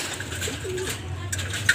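Soft, low pigeon cooing drifts through a steady background murmur, with a brief flutter or rustle near the end.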